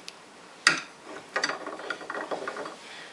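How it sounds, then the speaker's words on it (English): Ratchet wrench tightening the barrel nut on a Savage bolt-action rifle, one sharp clack followed by a run of quick, close metallic clicks. "what we're going to do at this point is tighten down our barrel nut"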